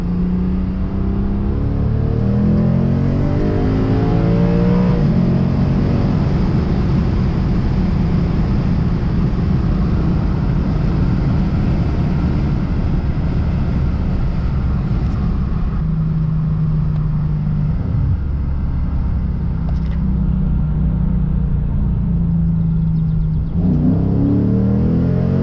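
A warmed-up Lexus RC F fitted with an ARK exhaust accelerates hard, heard from inside the cabin with a window slightly open: a loud, steady engine roar that climbs through several gear changes.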